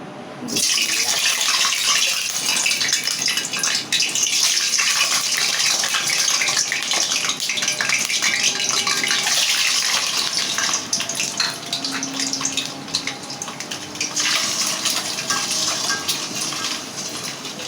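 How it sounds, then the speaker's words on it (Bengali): Eggs sizzling and spattering in hot oil in a pan, a steady loud crackling hiss that fills the whole stretch with no pauses and no talking. "ডিমটা আমি সুন্দর করে ভাজি করে নেব"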